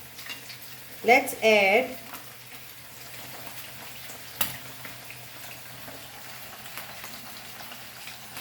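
Hot oil sizzles and spits steadily in a pan as ginger garlic paste fries, a close crackling hiss with a brief burst of speech near the start.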